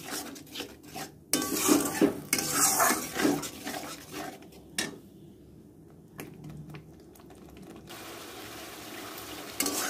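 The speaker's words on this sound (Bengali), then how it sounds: "এবার মশলাটাকে আমি অনেকক্ষণ ধরে ভালো করে কষাবো, যতক্ষণ না তেলটা ছাড়ছে।" Spice paste with turmeric being stirred and fried in oil in a pan, with scraping, clinking utensil strokes that are busy early on and then ease into a softer, steady sizzle.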